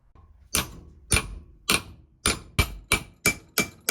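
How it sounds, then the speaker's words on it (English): A hammer strikes a Trezor Keep Metal plate again and again, giving nine loud, sharp metallic bangs. The blows fall at a steady rhythm with short gaps between them, close up and alone with no talk. "Now we try to destroy it manually using a hammer."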